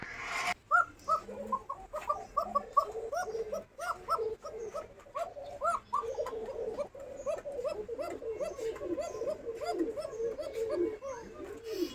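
An Arabian koka pigeon gives a rapid, repeated series of rolling coos at close range, the notes tumbling in a steady rhythm for the whole stretch against a low, murky background.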